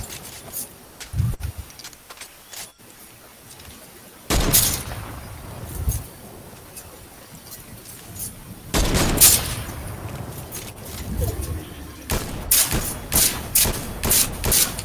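Fortnite gunfire crackles in several sharp bursts and rapid volleys, loud and close, separated by quieter stretches of shuffling and thuds.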